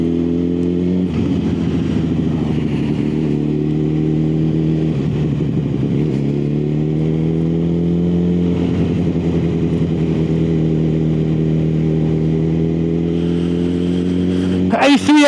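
Motorcycle ridden along the A388 road between Tamar Bridge and Callington, its engine droning steadily close up with rising and falling revs through gear changes, a brief sharp burst at the end.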